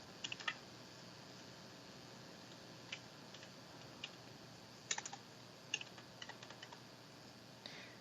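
Quiet keystrokes on a computer keyboard in an office, a few scattered soft clicks over a steady low background hum.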